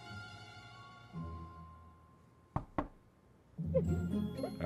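Two quick, sharp knocks on a door in South Park: The Fractured But Whole, heard over a fading musical tone, then game sounds and background noise follow.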